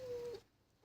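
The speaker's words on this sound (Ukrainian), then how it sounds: "Це в мене котик м'явкає." A single short, high meow from a cat, faint and a little distant, then quiet room tone.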